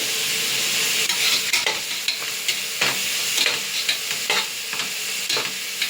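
Tomatoes sautéing in a hot pan for mushroom biryani, a constant close sizzle broken by repeated scraping stirs of a spoon across the pan, no voices.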